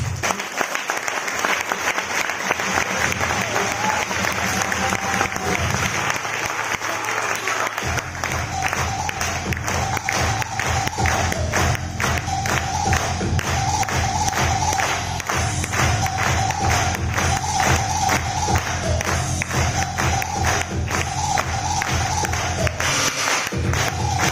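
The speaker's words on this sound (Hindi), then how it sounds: "मैं चाहता हूं उनके लिए आप एक बार बड़ी जोरदार ताली बजाएं" A large event audience breaks into loud sustained applause, dense clapping that swells and turns into a more rhythmic, synchronized beat, with a few cheers mixed in, lasting over twenty seconds.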